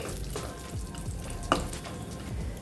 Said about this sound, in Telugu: ఇప్పుడు ఈ డ్రై ఫ్రూట్స్ని లైట్గా ఫ్రై చేసుకోవాలి